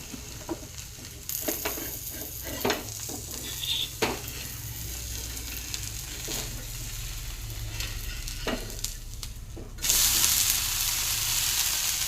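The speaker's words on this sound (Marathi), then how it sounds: "आता आपण दुसऱ्या साईडने भाजून घेऊया" A soaked masoor dal thalipeeth roasting in oil on a hot pan, giving a continuous close sizzle with faint scrapes and taps, then a brighter, louder burst of hissing toward the end.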